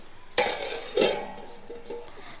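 A metal lid is set onto a cooking pot of fish and taro stems for a village-style Bengali fish curry, giving two sharp clinks close by, followed by a faint rattle.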